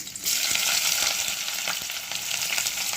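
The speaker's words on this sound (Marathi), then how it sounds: "कांदा भाजून घेऊया. भाजून असा घ्यायचा की जरासा गुलाबी लालसर झाला पाहिजे आणि सतत हलवत राहायचं" Onion fries in oil in a wok, a steady close sizzle that holds loud through the whole stretch with faint scraping of stirring underneath and no talk.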